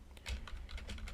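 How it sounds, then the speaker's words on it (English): Quick, soft keystrokes on a computer keyboard, a handful of light clicks in an uneven rhythm, close and quiet with no talking. "I'm just typing through. I can't talk and type at the same time."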